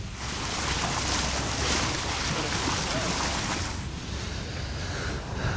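Ocean waves and wind heard from a boat at sea, a steady loud wash of surf and broadband wind buffeting on the microphone with no clear breaks.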